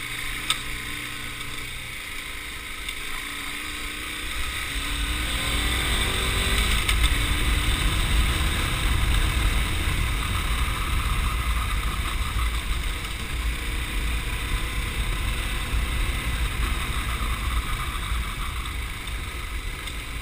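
A KTM 1090 Adventure R motorcycle ridden along a muddy forest trail, its engine a steady loud rumble that rises after a few seconds and holds with wind noise throughout.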